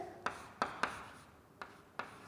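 Pen or pencil writing numbers by hand on paper, five short scratchy strokes spaced irregularly, close and quiet, with no talking.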